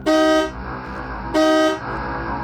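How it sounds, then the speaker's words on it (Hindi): A car horn honks twice, each long and loud blast close by, separated by about a second of steady engine hum. "उस रात तो मैं गाड़ी के हॉर्न से जागा था,"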